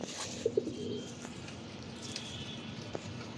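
A couple of soft pigeon coos sound close by over a low background hum, with faint chirps and no talking.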